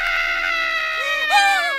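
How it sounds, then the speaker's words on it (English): A shrill, wavering scream rings out in an Annoying Orange cartoon, loud and sustained, with the pitch bending up and down near the end. "Except for a scream!"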